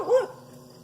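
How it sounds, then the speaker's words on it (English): A single dog bark or yip, close and fairly loud, lasting a fraction of a second, then a quiet room tone with no talking. "Dog."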